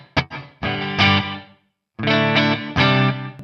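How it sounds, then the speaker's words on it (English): Electric guitar played through a slap back effect on a Line 6 HX One/Helix: short, bright strummed chords in two bursts separated by a pause, each followed by quick, tight repeats, loud and close, with no voices. "if I want that effect, like a nice slap back effect."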